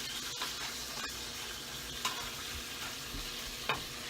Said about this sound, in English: Let it sizzle a little more.